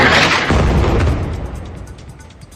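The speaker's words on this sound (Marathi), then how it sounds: "बैरूतमध्ये इस्रायली लढाऊ विमानांनी एका इमारतीवर भीषण हल्ला केला." An Israeli air strike on a building in Beirut produces a loud, deep explosion with a heavy initial boom that rumbles and slowly decays over a couple of seconds, with no voices heard.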